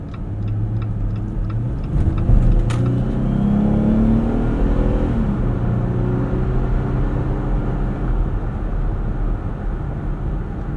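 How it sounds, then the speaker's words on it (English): A 2024 Jeep Gladiator Mojave X V6 with an 8-speed automatic accelerates, heard from inside the cab. A steady engine drone rises in pitch through quick gear changes, with no talking. "The V6 does need to work to get you going, but at least this 8-speed kicks down really fast."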